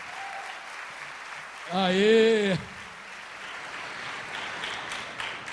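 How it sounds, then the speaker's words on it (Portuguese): A church congregation applauds steadily as a dense wash of clapping, while one voice shouts a short, loud cheer over it midway through. "Pode aplaudir ao Senhor pela vida do Marco Aurélio."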